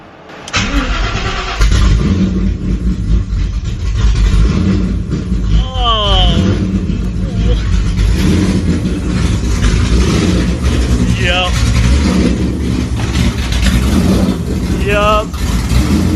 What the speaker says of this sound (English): First reaction of a cold start. Open headers.